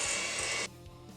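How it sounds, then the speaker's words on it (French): A kitchen robot mixer blending chocolate-avocado cake batter gives a loud, even whir for about half a second, then cuts off abruptly to a low hum. "ensuite je l'allume tout doucement pour tout mélanger"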